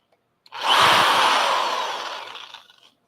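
A power drill whirs loudly for about two seconds, biting into a stuck clutch bolt with a grinding metal buzz before winding down.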